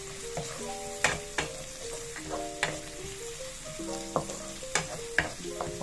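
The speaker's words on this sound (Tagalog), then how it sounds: "So, ito, mag-isa po ako ng bawang saka sibuyas." Garlic and onion sautéing in a pan, with a steady sizzle broken by repeated sharp scrapes and clinks of a utensil stirring against the metal, close and fairly loud, no talking.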